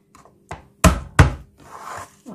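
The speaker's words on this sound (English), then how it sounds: "Crushed garlic." Garlic gets crushed for a mung bean dish with prawns and chicken feet: a few soft taps, then two heavy close thuds, followed by a brief scraping rustle and a final knock.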